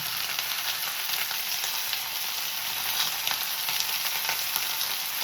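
Ground spices fry in hot oil for a Nepali cauliflower curry, a steady close hiss and crackle with faint, light stirring throughout and no voices.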